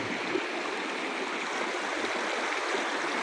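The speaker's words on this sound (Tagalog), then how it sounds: "Nagaslas ng tubig." River water in a rural province rushes in a steady, broadband wash close by, holding an even level from start to finish with no voices.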